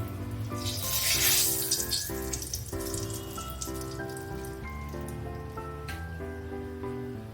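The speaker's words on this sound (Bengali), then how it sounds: "তেল গরম করে তেলের মধ্যে দিয়ে দিলাম আগে শুকনো লঙ্কা" Dried red chillies sizzle in hot oil with a continuous crackling hiss, loudest near the start and easing slightly, all under background music.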